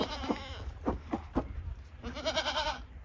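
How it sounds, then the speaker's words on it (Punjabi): Goats on a village farm bleat several times in short, wavering cries, fairly close but not loud, with a longer quavering bleat near the end. "ਆਹ ਵਾਲੀ ਬੱਕਰੀ ਬੜੀ ਪਿਆਰੀ ਹੈਗੀ ਆ"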